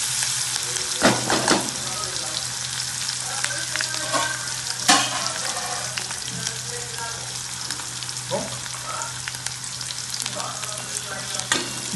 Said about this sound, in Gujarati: જ્યાં સુધી આપણા મરચાં સંતળાય છે ત્યાં સુધી આપણે હલાવી દઈશું